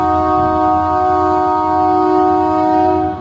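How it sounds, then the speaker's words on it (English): A loud train horn blares continuously over the rumble of a passing train, holding steady for several seconds before cutting off, on Route 66 in Galena, Kansas. "there goes our train. A noisy train."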